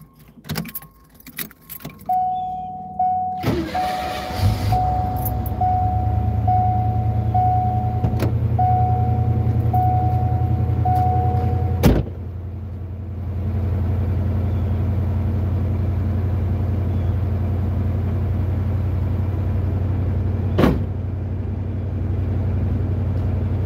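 A car that is not running quite right starts up after its hood is shut, with keys jangling and a few thumps first. Then a steady, close, low engine hum with a faint whine carries on, broken by an occasional knock.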